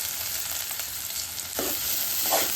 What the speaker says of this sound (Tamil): இப்போ வெங்காயம் போட்டுக்கலாம். கூடவே கருவேப்பிலையும் போட்டுக்கலாம்.